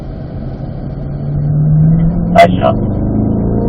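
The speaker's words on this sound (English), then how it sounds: "You can accelerate to the end as much as you're comfortable." A Corvette on a race track under acceleration, its engine a steady mid-pitched drone that rises slightly in pitch, heard from inside the car, with a short spoken remark over it.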